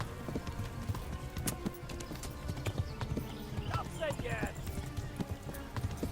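A horse gallops in the medieval video game Kingdom Come: Deliverance, rapid rhythmic hoofbeats running throughout with a whinny midway, while a voice talks over it.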